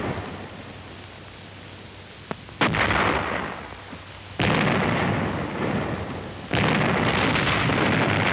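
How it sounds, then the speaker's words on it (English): Artillery and mortar fire strike fortified ridges and Japanese cave positions in wartime archival sound, with three heavy blasts rolling into long noisy rumbles and a small sharp pop just before the first. "Rocket and tank teams delivered direct artillery and flame against the fortified ridges and into the firing ports and embrasures of the Japanese caves."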